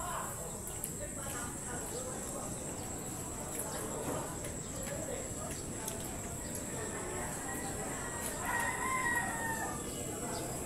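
A rooster crows outdoors near a rural Filipino cooking area. A drawn-out crow rises faintly over steady background hiss and insect-like noise, with people talking nearby.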